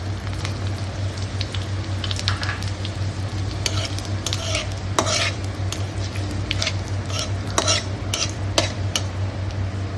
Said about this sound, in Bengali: এখন আমি এই তেলেই ফোড়ন দিয়ে দেবো। আচ্ছা, কালো জিরা, তারপর জিরা আর শুকনো লঙ্কা, এগুলো আমি তেলে দিয়ে দেবো।